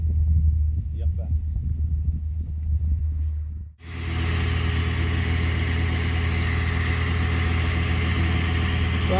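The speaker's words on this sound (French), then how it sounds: "c'est qu'on a un tracteur qui vient 3 fois par jour chercher de l'eau pour le chantier qui est un peu plus haut" A tractor engine runs close by near a lake, stopping to fetch water for a nearby worksite; a low rumbling hum starts up abruptly partway through and continues steadily and loud to the end, with no talk.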